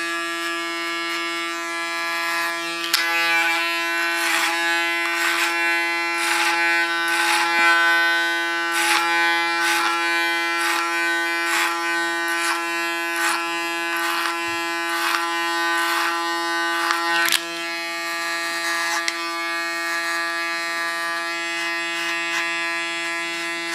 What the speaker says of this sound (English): Use my clipper as a comb